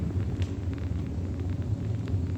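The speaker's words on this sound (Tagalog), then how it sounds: "Hydraulic makina pala ito." A hydraulic machine inside an industrial complex runs with a steady, loud low-pitched rumble and hum, continuous throughout with faint clicks above it and no voices.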